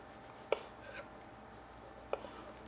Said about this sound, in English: how far to put your knife into the grapefruit